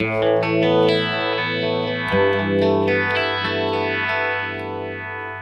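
A clean electric guitar played through a pedalboard with compression and delay rings out in sustained chords, with a slow, sweeping modulation and lingering repeats, and no voices.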